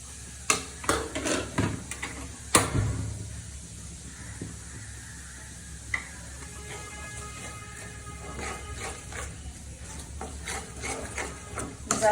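Papaya being stirred into melted jaggery in a pan while making puli pitha, with scraping and clattering utensil strokes at the start, then soft sizzling and faint stirring noises close by.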